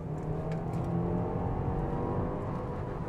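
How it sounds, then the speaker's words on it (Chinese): A Subaru WRX wagon's 2.4-litre engine revs hard past 6000 rpm toward the cutoff in S Sharp mode, giving a steady, loud, droning engine roar that holds throughout, with no talking. "S Sharp 模式是允许你拉到超过6000转断油了"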